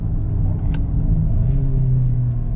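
A Volkswagen Virtus GTS with its 1.4 TSI engine accelerates, a loud, steady low engine drone heard from the cabin, rising slightly in pitch over a couple of seconds, with a faint click near the start.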